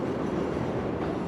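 Chicago's elevated L metro train, an 1892 steel overhead line, rumbling past as a steady, loud roar of wheels and cars with no break in the sound.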